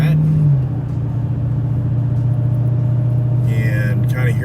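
A Dodge Challenger Redeye's deep exhaust rumbles steadily at close range, holding a low droning tone, with a brief rise in pitch near the start.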